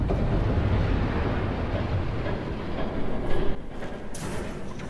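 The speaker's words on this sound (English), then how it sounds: "There's a train coming. Take cover." Train passing in the Batman Telltale video game: a dense, loud rushing rumble with clattering wheels and wind-like roar, swelling briefly near the end.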